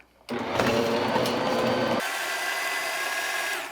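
An electric hand mixer starts up and whirs steadily through softened butter for cookie dough, a close, loud motor drone that drops in pitch partway through as it works the butter.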